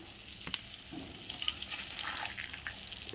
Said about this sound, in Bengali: এখন এগুলো আগে ভেজে নেই